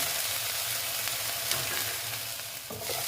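Spices and salt sautéing for katla fish curry in a pan, a dense steady sizzle with a few soft stirring scrapes, close and continuous without speech.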